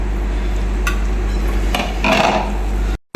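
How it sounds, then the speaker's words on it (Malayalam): Flattened rice (aval) stirred in ghee in a pan: a steady low hum with a few scraping, clinking strokes of a spoon against the metal, close and fairly loud, ending abruptly. "അപ്പോൾ നമ്മുടെ അവൽ ഇതാ നെയ്യിൽ നമ്മൾ മിക്സ് ചെയ്തെടുത്തുകൊണ്ടിരിക്കുകയാണ്"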